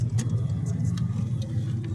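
A Skoda Octavia 1.8 TSI running on LPG gas equipment drives through town, its steady low engine and road rumble filling the cabin with a few light ticks above it.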